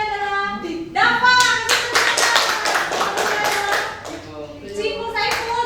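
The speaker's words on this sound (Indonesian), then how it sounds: "Kasih tepuk tangan nomor 3 adalah Dava." A chemistry class claps for a student placed third in a quiz, a burst of quick hand claps that runs for several seconds between a teacher's spoken lines.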